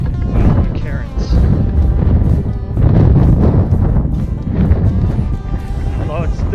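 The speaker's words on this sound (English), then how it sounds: "Although it's still windy" Gusting wind buffets the microphone in a loud, steady roar on an exposed boulder-field trail between Mount Adams and Mount Jefferson during a Presidential Traverse day hike under cloudy skies.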